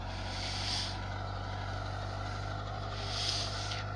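A steady, droning TD110 tractor engine rumbles on at an even pitch while leveling a field with a 4.20-metre float, with faint whooshes of wind or passing air; no one speaks.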